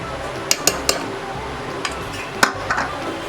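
Ground red chickpea paste being stirred into a pot for a Malvani-style sambar, with several sharp metal spoon clinks against the vessel over a low background hum, no voices.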